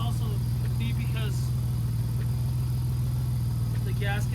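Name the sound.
BMW E46 engine idling roughly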